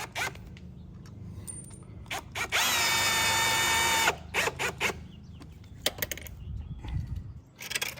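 A power drill drives a long screw into a garage frame while fitting a lower-corner pest shield, one steady loud whir lasting about a second and a half, surrounded by clicks, taps and handling noises.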